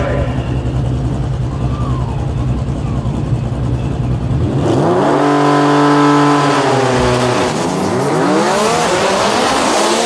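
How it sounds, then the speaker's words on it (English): A flat black Nissan GTR makes a single drag racing pass on the right-hand lane, its engine revving hard and then climbing through quick upshifts as it accelerates away, loud and close at the start and receding over crowd noise. "the flat black GTR coming up for a single pass here on the right-hand side"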